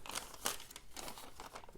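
Paper crinkles and rustles while a Logitech MX Sound speaker set is unboxed, a soft close-up crumpling with a couple of sharper crackles, quiet and without talk.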